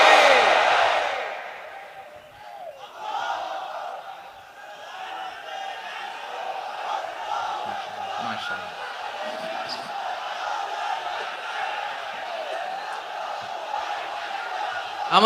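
A large crowd at an Islamic sermon gathering in Bangladesh shouts the takbir "Allahu Akbar" in unison, a loud burst at first that settles into a sustained, distant roar of many voices.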